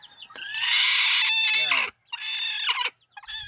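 Hens and chickens clucking close by in a coop where hens are brooding and chicks have hatched, with busy overlapping clucks and calls in two long bursts separated by brief pauses.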